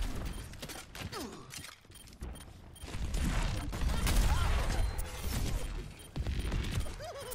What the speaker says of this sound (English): Get those nades in there, bro.